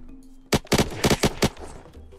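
Gunfire in the survival game Unturned: five or six sharp, loud close shots in a quick uneven burst, some doubled, with near silence before and after.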